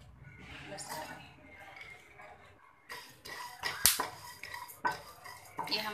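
Cashews, melon seeds and spices are lightly roasted in a pan on a medium flame for Mughlai chicken korma, with intermittent clinks and scrapes of a utensil against metal, close and moderately loud, and a sharper clatter midway.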